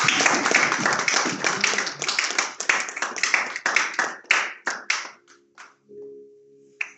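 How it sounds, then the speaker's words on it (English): A church congregation claps together in a burst that gradually thins out, the clapping growing sparser and fading into scattered final claps near the end. "Let's clap for him"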